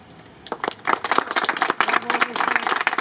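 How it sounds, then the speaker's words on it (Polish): Applause and clapping ring out for a Senate candidate at a Civic Coalition campaign event in Kwidzyn, starting faintly and then swelling into steady, dense clapping from the crowd. "Brawa."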